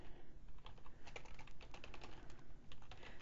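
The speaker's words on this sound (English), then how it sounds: "I'll just type it right in right here" Quick, uneven keystrokes on a computer keyboard as an email address is entered, a steady run of close, crisp clicks with no talking.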